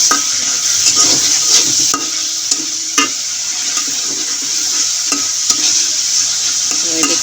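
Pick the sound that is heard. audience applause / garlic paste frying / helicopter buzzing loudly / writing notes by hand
garlic paste frying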